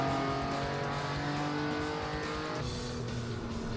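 A simulated car engine in the racing game Assetto Corsa, a steady loud drone with sustained harmonic tones and a slight shift in pitch partway through, with no talking.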